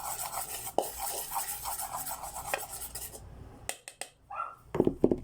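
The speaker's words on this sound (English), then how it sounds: "I'm too lazy to get a spoon, so I'm just gonna mix it with that knife." A knife stirs seasoning powder around a bowl while cooking potato chips, giving close scraping and clinking strokes in an uneven rhythm with short pauses and a few sharper taps near the end.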